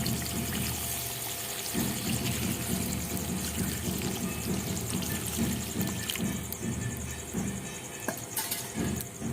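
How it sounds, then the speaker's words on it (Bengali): Water is poured into a pan of frying Bengali mutton curry, giving a steady hissing, trickling wash that runs continuously for around nine seconds with no voices. "এই টাইমে কিন্তু আমি জল দিয়ে দেব।"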